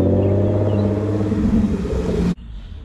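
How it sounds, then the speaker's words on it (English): Porsche driving past at a Hershey cars and coffee show, a loud close engine rumble with revving that holds steady, then cuts off abruptly as it moves away, leaving quieter background noise. "there goes a Porsche"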